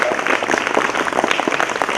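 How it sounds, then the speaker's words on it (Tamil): Crowd applause at a school Republic Day celebration on Anna Salai in Rasipuram: dense, steady clapping from many hands, fairly loud and continuous for the whole short stretch, with no one talking over it. "கைத்தட்டுங்க."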